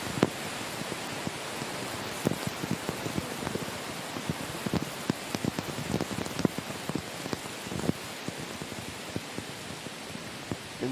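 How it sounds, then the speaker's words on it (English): Steady rain pours across a golf course during a women's professional golf tournament round in Korea, a dense constant hiss with scattered sharp drop patters, heard alone with no talk. "this was just a mild rain shower when it passed Suwon, and it has obviously picked up in veracity"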